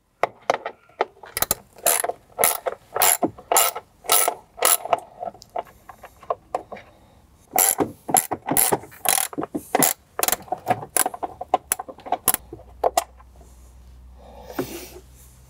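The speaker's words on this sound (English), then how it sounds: "We're going to remove the same gold 7 millimeter screws from the side of the enclosure like we did on the passenger side." A ratchet tool backs out gold 7 mm screws from the side of a driver's-side speaker enclosure in a 2011-2018 Jeep Wrangler JK, giving loud, rapid bursts of metallic clicking with short pauses between strokes and no talking.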